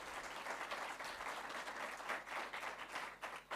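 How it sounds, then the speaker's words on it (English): A room of people applauds the top 20 schools at a Samsung Solve for Tomorrow launch event, with continuous crowd clapping and a few louder swells, heard at a distance and fairly faint. "let's give them a round of applause."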